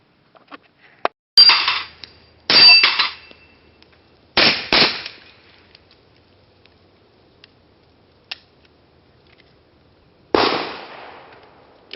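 Suppressed FNP-45 pistol with a Gemtech Blackside suppressor shooting steel plates, heard as a few sharp muffled reports with ringing metallic plate hits, spaced irregularly with quiet gaps between them and one last shot after a long pause.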